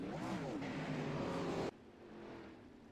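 410 outlaw series sprint cars racing on a dirt track, a loud close engine roar with rising revs that cuts abruptly to a softer, more distant drone of the field.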